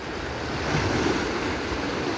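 Sea waves of the Persian Gulf wash steadily onto the shore at Kish Island, a continuous broad surf roar mixed with wind buffeting the microphone and no voices.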